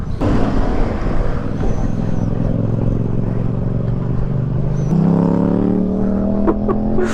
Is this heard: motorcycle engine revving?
yes